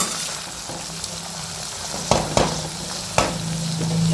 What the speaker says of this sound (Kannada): ಇದನ್ನು ನೋಡಿ ಟೊಮೆಟೊ ಹಾಕಿದೆ ಕಟ್ ಮಾಡಿ. ಇದು ಬೇಗ ಫ್ರೈ ಆಗಲಿ ಅಂತ ಸಾಲ್ಟ್ ಹಾಕೋಣ.